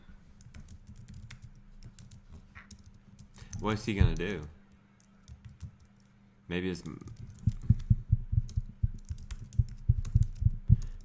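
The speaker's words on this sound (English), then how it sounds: "we can hear you typing" Rapid, dense typing on a computer keyboard during an online webinar, the clicks continuous in the latter half and clear near the microphone, with two brief bursts of speech before it.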